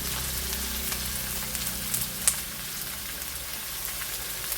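Onions sautéing with a pinch of salt in a pan give a steady close sizzle and crackle, even and continuous, with one brief sharp tap partway through.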